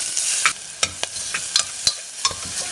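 Crushed ginger, garlic, shallots and green chilli sauté in a spoonful of oil for Malabar irachi kanji, giving a soft sizzle punctuated by crisp, rhythmic spatula stirs and taps close by.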